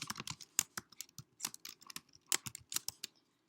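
Typing on a computer keyboard while editing text on a website, a close, quiet run of quick irregular key clicks with short pauses, no voices.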